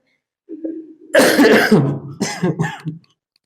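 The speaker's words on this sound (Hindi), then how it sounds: "लिखने तो दो, खांसी आ रही है एक तो।" A lecturer teaching a physics class coughs in a quick harsh burst of several coughs, then a second shorter cluster, close and loud with no talking over it.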